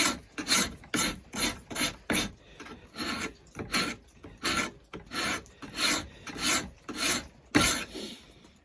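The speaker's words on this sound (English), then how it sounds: "When you draw filing, you hold that 90 degrees to your cut and just drag it back." A bastard file is drawn across a knife blade held at right angles to the cut, giving a series of rasping strokes in a steady rhythm, each a loud close scrape separated by brief pauses.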